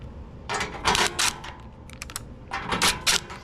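Bolts being tightened on a Troy Bilt Storm 2840 snow blower, bursts of quick metallic ratcheting clicks in several short runs with brief pauses between, close and crisp with no talking.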